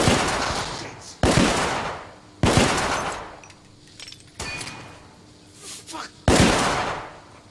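Heavy gunfire in the video game The Order 1886, several loud close bursts of shots, each ringing out and decaying before the next volley, with a voice speaking between them.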